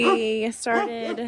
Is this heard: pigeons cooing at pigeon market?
no